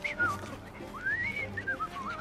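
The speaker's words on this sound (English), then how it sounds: "I've just learned to whistle." A man whistles a wavering, tuneless melody in Assassin's Creed Syndicate, set in Victorian London, rising and falling in loose phrases over quiet street ambience.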